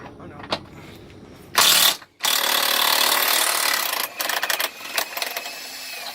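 A power tool or ratchet rattles as it loosens bolts on a car during an engine swap, with one sharp burst followed by a longer steady buzz and a few short stuttering pulses.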